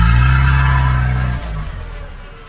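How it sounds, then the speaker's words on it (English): A car engine fades away as the vehicle drives off, its loud low hum dropping after a second and a half and thinning into distant rumble, heard alone with no voices. "The sound of the engine grew smaller and smaller until it was gone."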